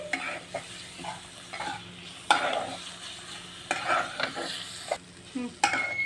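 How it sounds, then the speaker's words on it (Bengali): Vegetables with tomato and salt being stirred and fried in a pan, a soft sizzle broken by repeated scraping stirs at close range, alone with no voices. "আমি এখানে একটু ভালো করে নেড়ে নিচ্ছি"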